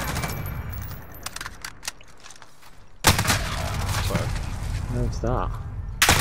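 Bursts of rapid gunfire from a team shooter video game crackle in the background, then louder volleys later on, while people talk over the action.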